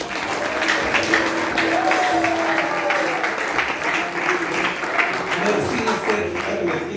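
Congregation applauding in a church during an evangelist's consecration service, a dense steady wash of clapping from many hands that holds evenly throughout, with a voice rising faintly over it.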